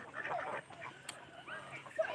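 Domestic laying ducks quacking in a short run of calls, moderately close, with a faint voice mixed in.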